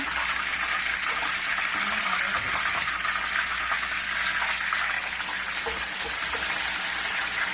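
Chicken pieces frying in oil for a Jamaican home-style dish, a steady close crackling sizzle that runs unbroken throughout with no talk over it.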